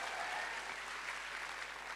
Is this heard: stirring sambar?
no